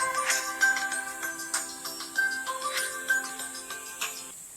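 A mobile phone ringtone plays a bright, repeating electronic melody of tinkling notes. It is close and clear, runs steadily for a few seconds, then cuts off abruptly, and no voices are heard.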